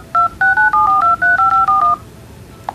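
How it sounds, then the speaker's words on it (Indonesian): DTMF keypad tones dialing a random number on a Hisense Andromax R2 smartphone: about eleven crisp, evenly spaced dual-tone beeps in a quick steady run, loud and close, followed by a brief faint blip. "di sini saya akan menelpon nomor acak sembarang aja"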